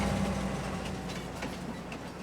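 A train rolls along in Farming Simulator 22, a steady low rumble with faint rhythmic rail clatter, continuous and fairly close with no talking.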